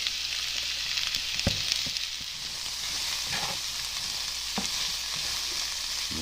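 Potatoes with two whole fresh green chiles fry in a pan, a steady close hiss broken by a few sharp clanks as they are tossed around, with no talking.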